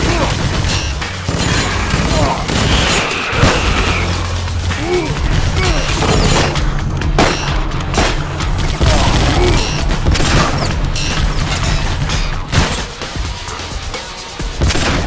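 Sniper gunfire in the video game Vivisector: Beast Within, a dense, continuous barrage of loud shots and crashing impacts over a steady low rumble, with brief gaps.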